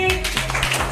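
Group of people at a nature camp clapping hands together, a short burst of bright, slightly scattered claps close by, with a voice briefly audible underneath.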